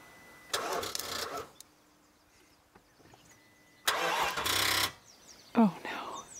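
A car engine cranks in two loud, close bursts after a jump start during a backcountry overland fishing trip, each churning for about a second without catching, with quiet gaps between and a short voice near the end.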